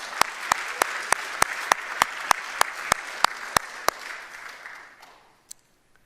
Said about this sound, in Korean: 크게 한번 박수하십시다